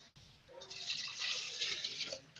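Homemade almond milk poured into a blender, a soft continuous splashing trickle that swells and holds for a couple of seconds, close but quiet.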